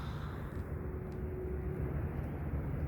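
Electric motor of an FMS SuperEZ radio-controlled plane at a dawn flying session, a steady low whirring drone with a faint thin whine, moderately close, no voices.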